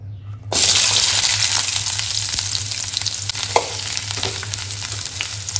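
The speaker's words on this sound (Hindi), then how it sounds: "तेल गरम हो जाने के बाद जो है ना हम इसमें डालेंगे प्याज।" Roughly chopped onions hit hot oil in a pan and burst into a loud, steady sizzle after a brief quiet start, frying continuously with faint stirring scrapes and no talk.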